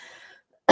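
A single sharp cough bursts out near the end, loud and close, after a stretch of soft breathy exhaling and a brief quiet gap.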